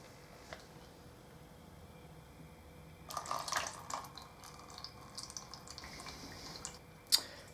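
Spiced apple cider draining through a funnel into a bottle, a faint quiet stretch giving way after a few seconds to light splashing and trickling, with a sharp clink near the end.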